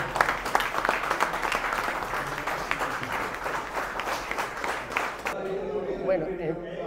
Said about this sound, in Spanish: Y a ustedes, un aplauso.